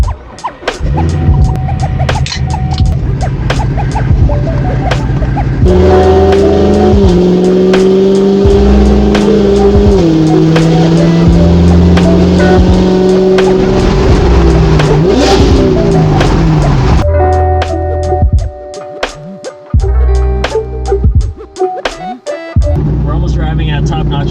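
A classic Ford Mustang fastback with a swapped-in Coyote V8 drives close and loud, revving hard through several gear changes and easing off between pulls.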